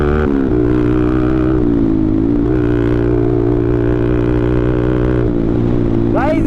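A motorcycle ridden on a narrow road keeps up a loud, continuous engine drone that rises and falls with throttle changes, close to the mic, with a brief rising whine near the end.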